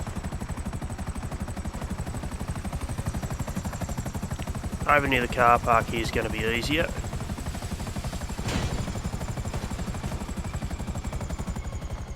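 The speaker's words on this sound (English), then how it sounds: "just land the chopper" A helicopter setting down in GTA Online near a marina car park, its rotor chop a dense steady pulsing throughout, with someone talking over it partway through.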